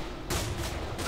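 Shotgun fire in the video game Manhunt 2: a dense, loud burst of blasts with a sharp onset, lasting about a second with no pause.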